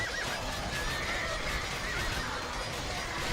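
Horses neigh amid the din of a large battle in Age of Empires 2, a few whinnies rising over a dense, constant wash of combat noise with no voices.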